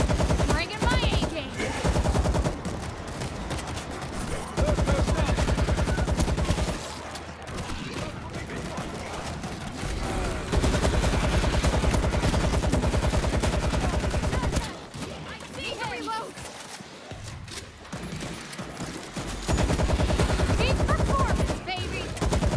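AK rifle fire in World War Z, set in Rome, in long sustained automatic bursts with short pauses between, loud and close, while someone talks at times.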